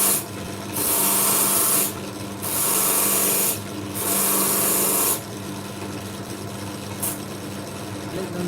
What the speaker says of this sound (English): Just smoothing out the bottoms of these pieces,